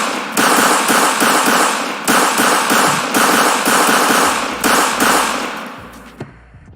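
Rapid bursts of gunfire from a first-person shooter under construction in the Amazon Lumberyard engine, loud and close, firing in quick runs separated by short gaps before cutting off near the end.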